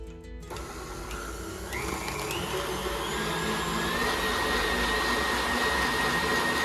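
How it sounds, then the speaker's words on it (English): An electric mixer whips cream into homemade butter at a thick-cream stage, a loud steady motor whine that holds on without a break and rises a little in pitch partway through, with no talking over it. "So it's been whipping for about 5 minutes now."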